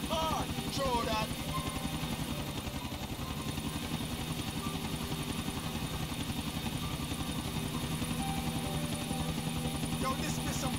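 Helicopter in Grand Theft Auto IV, a steady chopping rotor beat and engine drone that runs continuously and loud throughout, with speech heard over it.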